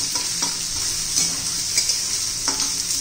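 Onion with grated ginger-garlic paste stirred and sautéing in a pan, a steady close sizzle with scraping stir strokes recurring every second or so.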